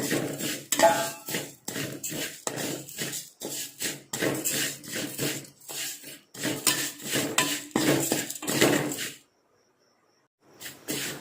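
Ingredients being dry-roasted in a pan until golden, a busy run of close scraping and clinking strokes from a utensil against the pan, steady and rhythmic, then a brief pause before a few more strokes.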